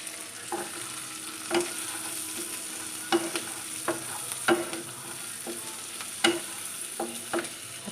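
Onions frying in oil with ginger-garlic paste for chilli chicken, a steady sizzle punctuated by repeated sharp scrapes and clinks of stirring, close and moderately loud with no talking.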